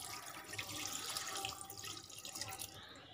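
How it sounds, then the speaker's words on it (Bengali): A small amount of water is poured into meat cooking in a pot for biryani, giving a steady, close liquid splash and hiss that runs continuously for about three seconds with no talk. "এবার আমি এতে পানি দেব অল্প করে,"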